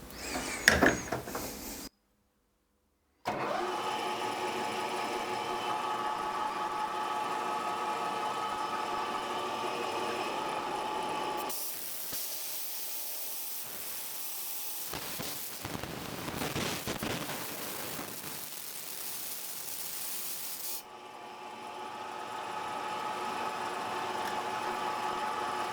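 A metal lathe takes a 1 mm facing cut at a 60-micron-per-revolution feed, with compressed air blowing away the chips: a steady, close mechanical hum and whine with a brief silent gap early and a harsher, hissing stretch in the middle.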